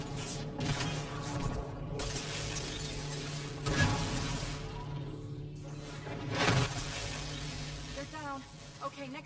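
Glass breaking during a Mass Effect Andromeda fight: several sharp crashing bursts with sizzling shards over a steady low hum, fairly loud, with short vocal fragments near the end.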